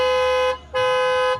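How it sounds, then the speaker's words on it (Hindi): Two loud blasts from an upgraded Creta-style car horn on a Tata Punch, each a steady bright tone about half a second apart, with a brief gap between them and no other sound. "तो हॉर्न का भी आउटपुट यहाँ पे आप सुन लीजिए"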